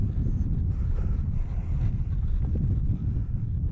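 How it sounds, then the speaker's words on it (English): Strong wind buffets the microphone in a continuous low roar, gusting unevenly throughout with no voices, at a model aircraft flying session. "Oh, it is windy."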